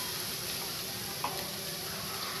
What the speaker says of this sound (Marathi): कांदा छान आपल्याला परतून घ्यायचा आहे।